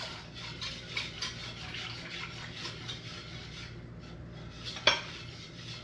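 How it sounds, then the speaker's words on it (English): A whisk scraping and clinking steadily inside a pot of pepper jelly mixture made from farmer's market peppers, a quiet rhythmic metallic rasp with one sharper knock near the end. "Whisk it all together until it's dissolved."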